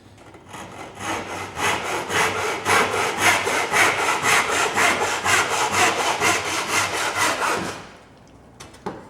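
A hand saw cuts through wood for a tenon shoulder with steady, evenly spaced strokes, close and fairly loud, running for about eight seconds before the blade stops and the sound falls away.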